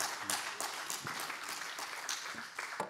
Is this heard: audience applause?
yes